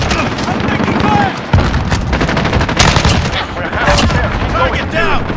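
Rapid, loud AK-74M automatic fire in Modern Warfare, sustained close bursts with brief breaks, under game voice callouts.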